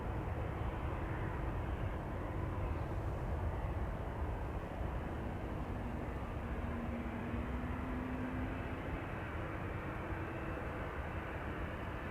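Finnair Airbus A350 taxiing at Amsterdam Schiphol Airport, a steady distant jet engine roar with a faint whine, continuous and unchanging throughout.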